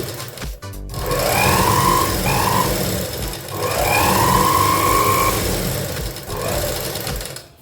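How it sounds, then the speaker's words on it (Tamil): An electric sewing machine driven by a foot pedal runs in two long bursts with a short pause between, its motor whirring loudly and steadily up close, with no talk. "எலக்ட்ரிக் ஃபுட் பெடலை வந்து நம்ம ப்ரெஸ் பண்ணும்போது லைட் ப்ரெஸ் பண்ணோம்"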